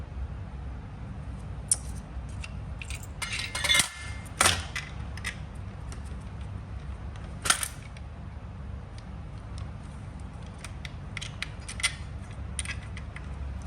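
Metallic clicks and small knocks as a slingshot is assembled and a nut is fitted into its mount, sparse and close over a steady low background hum, with a few sharper snaps.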